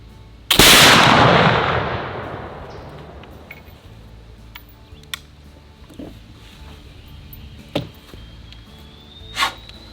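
A single loud gunshot from a c1820 .36 caliber Soddy-Daisy flintlock rifle on an outdoor range cracks sharply and rolls off into a long fading boom, followed by a few faint clicks and small noises.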